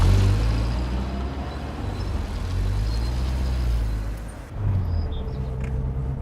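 A Peugeot 504 GL driving, its engine a low, steady hum with road noise, the pitch dipping briefly near the end before settling back to an even cruise.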